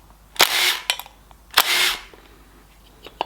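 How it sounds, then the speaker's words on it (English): An impact gun rattling loose the pump pulley bolts on a Ford Sierra Cosworth, two sharp short bursts with brief hammering, fairly close and clear against a quiet background. "So I'm going to undo them with an impact gun because I'll not get the leverage with the spanner."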